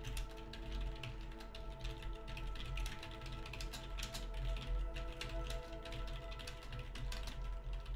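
Fast typing on a computer keyboard, a dense, rapid stream of light clicking keystrokes that continues unbroken, close and moderately loud over a low background hum.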